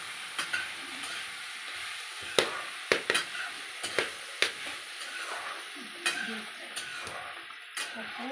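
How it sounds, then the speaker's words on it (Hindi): Roti cooks on a village clay stove (chulha), with a series of irregular taps and scrapes over a soft, constant crackle and hiss, fairly quiet and close. "ये देखो चूल्हे में रोटी बन रही है बढ़िया"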